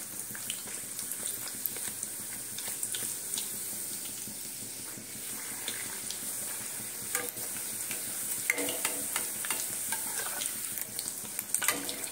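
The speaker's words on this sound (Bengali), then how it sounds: "লুচিগুলো এবারে ভাজবো। চলো তেল গরম হয়ে গেছে" Luchi, puffed Bengali puri bread, sizzles and crackles steadily in hot oil in a kadai, with scattered pops and occasional scraping of a spatula, close and continuous.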